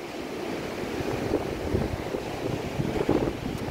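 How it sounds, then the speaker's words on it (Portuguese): Strong cold wind buffets the microphone at Praia Grande beach in Penha under overcast, rainy weather, a continuous gusty roar with surf rumbling underneath and no talking. "Tá frio, ventando muito."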